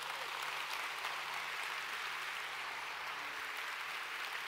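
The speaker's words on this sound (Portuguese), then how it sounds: "Quem pode dar um aplauso ao Senhor Jesus nessa manhã?" Steady, dense applause from a church congregation during a Sunday morning service, a continuous wash of many hands clapping that holds evenly throughout without talk.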